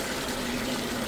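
A FLUENTPOWER 1/2 HP submersible sump pump runs, giving a dense, loud, steady rush of pumped water with a low motor hum throughout.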